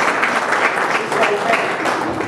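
An audience at a community talk claps in a loud, dense burst of applause lasting a couple of seconds, with voices mixed in underneath.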